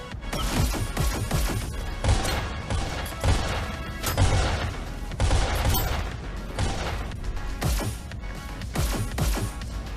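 Rapid video game gunfire from a pistol-heavy shooter, dense overlapping shots and impacts crackling loud and close for the whole stretch, with excited voices faintly underneath.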